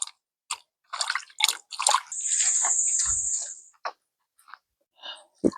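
Gungo peas get washed in water, with close splashing, sloshing and rustling in short bursts and a steadier run of flowing water in the middle.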